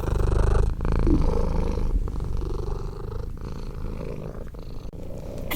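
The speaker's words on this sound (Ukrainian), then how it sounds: "Послухайте, як він урчить." Steady, rumbling cat purr, close and continuous, with a rhythmic low vibration pulsing through each breath, no voices present.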